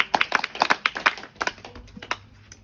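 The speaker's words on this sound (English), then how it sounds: "Let's just give them a round of applause and say thank you." A small group claps to thank the hosts at an afternoon home pool baptism gathering, with sparse, uneven hand claps for about two seconds that thin out and fade.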